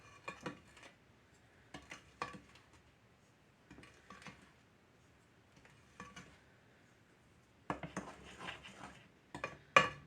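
Spoon or spatula clattering against a mixing bowl while stirring candy bar cookie dough, in short scraping bursts with pauses, fairly quiet and close, the busiest clatter near the end.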